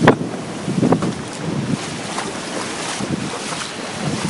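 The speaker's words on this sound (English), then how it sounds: "Water's still coming in. Water's still pouring in." Floodwater pours in during Hurricane Sandy on Long Island, a loud continuous rushing and churning of water with heavy wind buffeting the microphone, with no voices.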